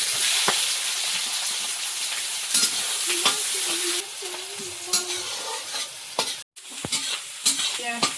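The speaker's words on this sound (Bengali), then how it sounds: "বেশ নরম হয়ে গেছে আর ভালো করে একটু ভেজে নিয়েছি" Whole garam masala, black peppercorns, cumin seeds, bay leaf and sliced onion frying in oil for a mutton curry, with a steady loud sizzle broken by scraping stirs of a spatula against the pan.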